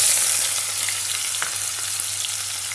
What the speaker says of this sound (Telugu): ఆయిల్ కొంచెం వేడెక్కాక మనం ఉల్లిపాయ పచ్చిమిరపకాయలు వేసేసుకుందాం